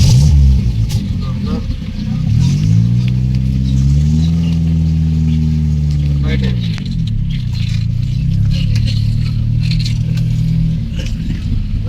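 A car engine rises in pitch as it accelerates in first gear during a driving lesson on a road, holding a steady hum with an instructor's voice talking over it throughout.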